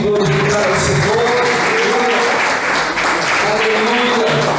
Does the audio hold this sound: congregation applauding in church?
yes